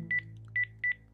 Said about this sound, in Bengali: ফোন করে নিচ্ছি।